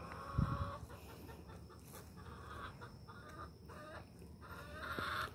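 Chickens cluck close by in short bursts, with one sharper squawk early on and soft rustling farmyard noise throughout.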